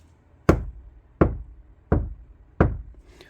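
Four evenly paced knocks on a damped Kia Sportage NQ5 car panel, each a dull, woody thud that dies away quickly.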